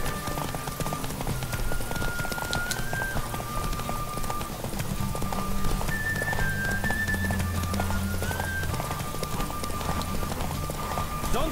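A horse gallops in The Witcher video game, its steady rapid clip-clop hoofbeats running throughout with game music tones and background sound layered over them.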